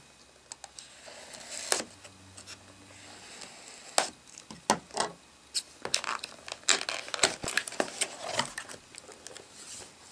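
Cardboard and plastic packaging of a Logitech K400 wireless touch keyboard crinkles and tears as the box is opened, with sharp scattered snaps, rustles and taps close by and no voices.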